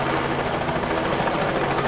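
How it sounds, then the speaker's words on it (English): A helicopter flies in over a high school football field during a game, a loud, steady rotor and engine drone that holds for the whole stretch with no voices. "Here's the helicopter bringing in the game ball."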